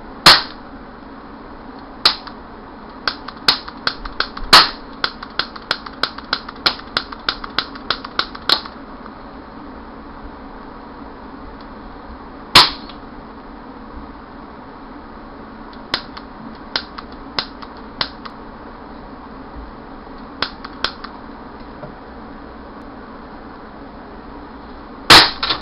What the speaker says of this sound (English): the more rapid the flashbacks occur, the more they'll be stopped by the check valve